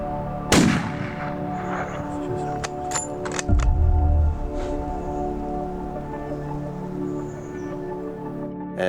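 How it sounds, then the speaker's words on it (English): A single sharp rifle shot fired at a mule deer from 370 yards cracks out near the start, followed by faint clicks and a low thump while quiet outdoor ambience continues. "and I placed the shot."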